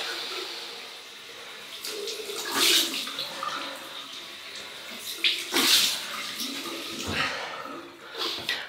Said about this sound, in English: Nice cool water rinse.